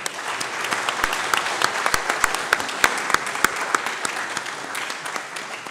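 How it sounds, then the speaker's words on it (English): An audience at a lecture event honoring Mwalimu Julius Nyerere applauds a speaker with steady, crowded clapping, sharp individual claps standing out early before the sound thins slightly near the end. "let us give a round of applause to Dr."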